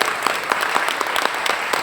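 A crowd applauds at a talk about UFOs, a steady roll of many hands clapping with a few sharper individual claps standing out, fairly close and continuous.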